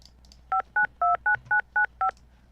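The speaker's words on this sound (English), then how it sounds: "Now can we call Lucia Purnell?" A video phone dials in the game Tex Murphy: Pandora Directive with a quick run of seven clean touch-tone beeps in steady rhythm, alone and clear against a quiet background.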